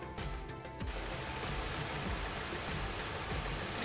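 A Ford EcoSport engine runs at a steady idle, a continuous close-up rumble and hum that holds even in loudness throughout, with no voices.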